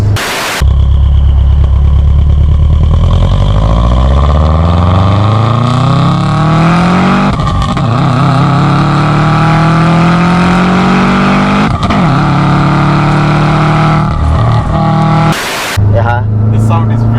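A Subaru Forester SG9 STI with a forged engine rumbles loudly up close, its deep exhaust note climbing steadily in pitch as it revs, with brief pauses and a renewed rise near the end.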